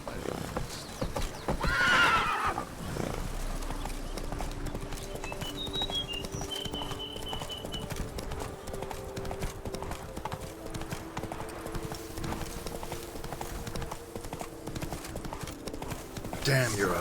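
Horse hooves clip-clopping at a gallop with a whinny near the start, from a horse ridden in the video game The Witcher 3, set under game music while someone speaks briefly.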